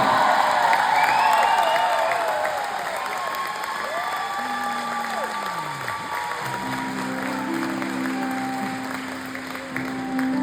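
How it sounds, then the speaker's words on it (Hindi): A concert crowd in Toronto applauds steadily, dense clapping that fades down over several seconds, with a few cheers in it and some voices over the top. "टोरंटो की ऑडियंस ने तालियां बजाई तुम्हारे लिए"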